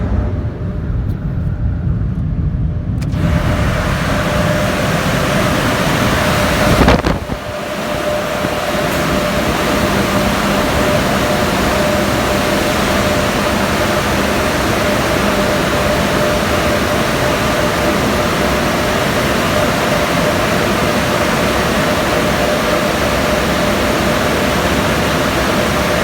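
The dryer of a PDQ LaserWash 4000 car wash at a Racetrack car wash in Bathurst, NSW blasts air over a car, a loud, steady roaring rush with a brief dip partway through, heard from inside the vehicle with no talk.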